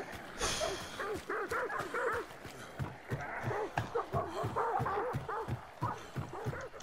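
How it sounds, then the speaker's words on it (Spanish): Dogs in the video game Hunt: Showdown bark in a rapid, steady series of repeated barks at moderate loudness over busy game ambience. "Ahora, perros, tío."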